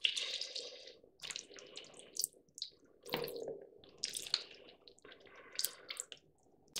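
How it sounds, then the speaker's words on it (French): Makeup brushes are rinsed under a cold running tap, water splashing and squishing through the bristles in uneven bursts, close and fairly quiet. "je les rince à l'eau froide"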